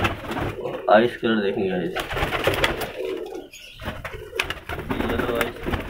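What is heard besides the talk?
pigeons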